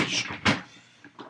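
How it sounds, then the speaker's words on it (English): An interior door shuts with one sharp thud at mid-clip, preceded by shuffling and followed by a couple of softer knocks from the latch or frame. "Let me just close my door before I continue this conversation."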